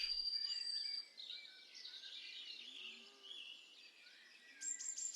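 Song thrush singing on Minster Marshes, heard as faint, distant whistled phrases and trills over a quiet outdoor background, with a brighter burst of notes near the end.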